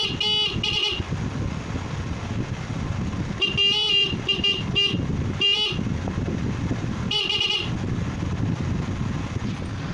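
Motorcycle horn, wired to run without a battery, honking in several short repeated bursts, loud and close, over a steady background hum.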